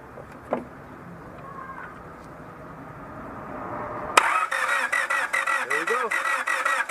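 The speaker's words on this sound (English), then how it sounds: "Now, she's gonna crank it." A Honda Civic that will not start cranks with a rapid, rhythmic starter chug after a quiet lead-in, loud and close.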